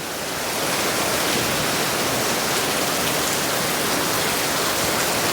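Steady heavy rain falls outdoors near a temple, a dense continuous hiss that swells in over the first moment and then holds loud and even, with no voices.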